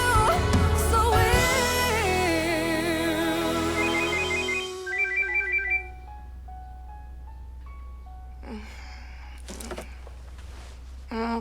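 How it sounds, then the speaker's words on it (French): A bright electronic phone ringtone plays a repeating melodic pattern over music, then breaks off, leaving quieter scattered sounds and a low hum. "Mon téléphone."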